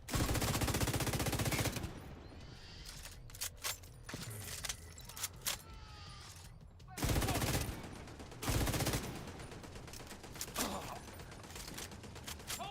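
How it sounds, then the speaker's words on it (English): A deployed turret in a video game rattles off loud bursts of automatic fire, with mechanical clicks and clanks during the quieter middle stretch before the firing resumes. "Setting up my turret."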